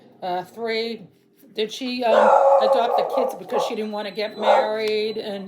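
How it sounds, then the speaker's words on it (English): Michaela, a pet dog, barks and yips in short bursts close by, overlapping someone talking. "sorry about that. That's my dog,"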